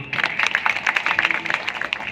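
An audience claps to welcome a revered Maharaj at a devotional satsang gathering, giving dense, steady applause from a crowd throughout, fairly loud and close.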